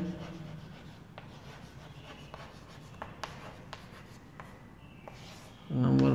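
Pen or marker writing out a conclusion on a board during a physics lecture on moving charges and magnetism, faint scratchy strokes at close range in a quiet room, with a louder rustle at the very end.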